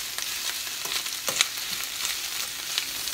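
Cabbage and tuna frying in a pan on high heat, a dense steady sizzle broken by repeated spatula scrapes and taps as the mix is stirred, close and loud with no talking.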